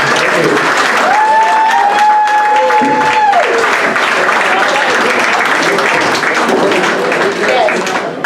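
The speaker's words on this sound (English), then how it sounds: "quick round of applause for Kev Smith and Ian Chapman, please" A crowd at an old boys event applauds Kev Smith and Ian Chapman, with steady, loud clapping that runs the whole way through. Voices and a whistle-like tone rise briefly over it.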